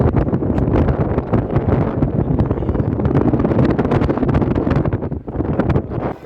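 Strong, gusty wind roars steadily and loudly outdoors in Saudi Arabia, buffeting the microphone with a dense rushing noise that barely lets up, with no voices.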